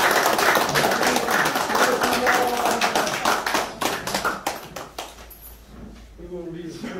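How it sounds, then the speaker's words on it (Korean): A small group at a county campaign office's closing ceremony after the 20th presidential election claps in the cold. The sharp, irregular claps come close for several seconds, then thin out and fade, with some talk underneath. "추운 날씨에 우리 여섯 분들에게 정말 감사의 박수 한번 부탁드립니다"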